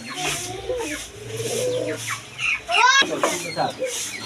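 Kaldom high-flying pigeons, a pair with young, cooing softly in a loft, close by, with a voice talking over and between the calls.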